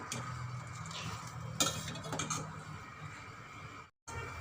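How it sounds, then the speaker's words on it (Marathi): A ladle stirs a pot of boiling dahi kadhi made with yogurt and besan, giving soft scraping and clinking over a steady bubbling simmer, with one sharper knock against the pot partway through and a brief gap near the end. "पळी यामध्ये असे सारखेच फिरून घ्यायचे"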